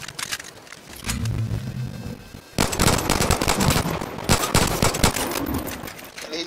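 Video game gunfire crackles in rapid automatic bursts, sharp and close, with a quieter stretch early on and then dense, loud volleys of shots packed together through the rest.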